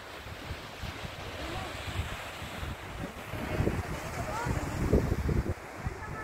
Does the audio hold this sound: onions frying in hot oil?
no